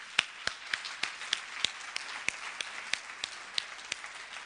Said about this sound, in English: I think he deserves a huge round of applause for that.